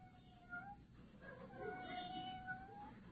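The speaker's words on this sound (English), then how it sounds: "Sounds like a little kitten at the screen door." A small kitten meows repeatedly at a screen door in an old-time radio comedy, thin high mewing cries rising and falling over a hissy, muffled broadcast background, fairly close.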